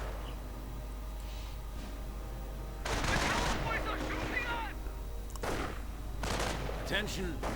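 Rifle and small-arms fire from infantry in a World War II real-time strategy game, with volksgrenadiers engaging riflemen, crackles in bursts over steady background noise, loudest in the middle and again near the end, with a voice talking throughout.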